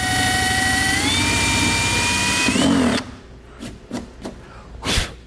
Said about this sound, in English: I'm going to drill me another little hole